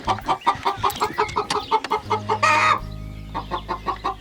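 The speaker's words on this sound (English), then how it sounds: "You can hear that there's some very noisy chickens in there" Young chickens cluck noisily inside a laying coop, a rhythmic run of repeated clucks up close, briefly broken by a louder squawk and a low hum near the end.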